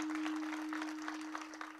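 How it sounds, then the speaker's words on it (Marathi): Applause from an audience at a kirtan, a steady broadband clatter of hands lasting nearly two seconds at moderate level, with a constant electrical hum running underneath. "जोरदार टाळ्या वाजवा यांच्या सगळ्यासाठी."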